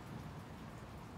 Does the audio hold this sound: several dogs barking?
no